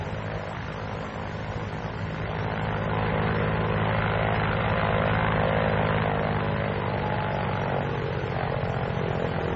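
The engine of a 1944 Vought F4U Corsair fighter plane gives a loud, continuous propeller drone that swells slightly and then holds steady. Nothing else is heard over it.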